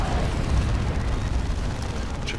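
Grenades explode in Dawn of War 2 as a dense, continuous roar of blasts and booms. The sound is loud and close, with no pauses between detonations.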